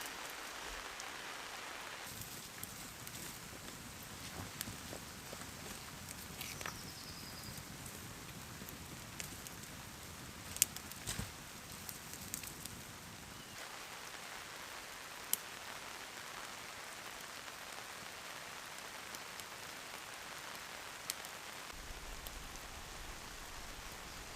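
Heavy rain pours steadily onto a bush camp in New Zealand, a dense continuous hiss with scattered drips and taps across the whole stretch, the downpour thinning somewhat toward the end.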